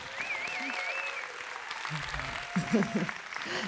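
Audience applause at a gathering, a steady moderate clapping wash heard alongside talk, faint melodic tones and some nearby voices.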